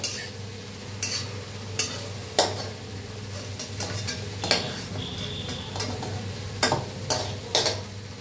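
Fried potatoes crackle in a pan while a spatula scrapes and knocks through them in repeated sharp strokes, about a dozen over a steady sizzling hiss, with no speech.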